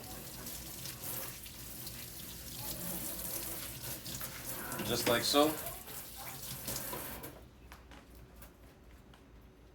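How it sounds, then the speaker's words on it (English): Tap water runs and splashes over the splash guard of a Ninja Foodi Smart XL Grill while it is rinsed. The gush swells briefly in the middle, then cuts off near the end as a voice speaks. "just gonna rinse this off. The splash guard, splash shield."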